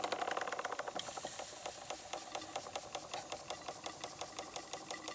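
A Bing 130/270 engine, run for the first time in many years, ticking over at low speed with a fast, even, quiet mechanical clatter that stays steady throughout.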